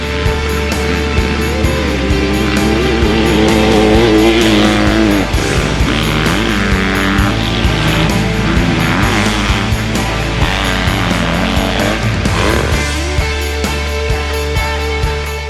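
A 2023 Honda CRF250 motocross bike races hard, its engine loud and close, revving and shifting in repeated surges and drops with no talk.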